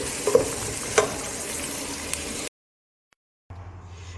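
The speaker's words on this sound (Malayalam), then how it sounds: "ഉള്ളി പച്ചമുളക് പിന്നെ ഒരു രണ്ട് അല്ലി വേപ്പിൻ്റെ ഇല എന്നിവ ചേർത്ത് നല്ല നല്ല രീതിയിൽ വതക്കി എടുക്കണം" Onion, green chili, garlic, ginger and curry leaves sauté in hot oil for a fish curry. The sizzle is loud and close, with a couple of utensil clinks, then cuts to silence before a quieter frying sound returns.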